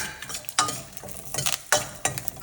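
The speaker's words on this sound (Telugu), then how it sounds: "ఇది కొంచెం వేయించుకున్నాక ఇప్పుడు కరివేపాకు, ఎండుమిర్చి" Curry leaves and dried red chillies fry in hot tempering oil with mustard seeds, giving repeated bursts of sharp sizzling and spitting as a utensil stirs the pan, close and crackling.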